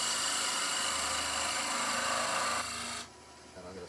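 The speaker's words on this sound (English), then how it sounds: "I'm going to use a spindle gouge just to come around this corner." A spindle gouge cutting wood on a lathe while turning a Christmas tree bird box, giving a steady close rasping scrape over the motor's hum that eases off near the end.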